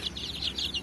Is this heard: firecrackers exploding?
no